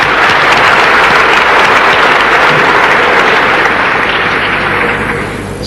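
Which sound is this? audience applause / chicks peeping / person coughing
audience applause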